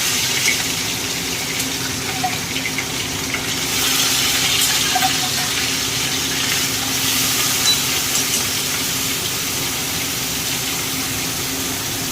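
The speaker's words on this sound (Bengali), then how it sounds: "মাছ ভাজা করবো কাতলা মাছ ভাজবো" Catla fish fry in a hot pan with a continuous, even sizzle that swells slightly partway through. No one speaks.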